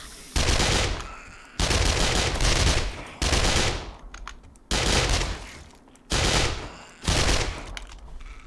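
Loud, close bursts of automatic gunfire from the video game 7 Days to Die (Alpha 19.3), aimed at radiated zombies, come in about five long rapid-fire volleys separated by short pauses.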